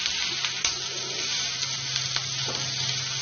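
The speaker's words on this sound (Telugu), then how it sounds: "వెల్లుల్లిని ఆయిల్లో ఫ్రై చేయాలి." Crushed garlic fries in oil, with chilli powder and salt, as a steady close hiss and sizzle. A low constant hum runs beneath it, and a few faint ticks and scrapes are heard.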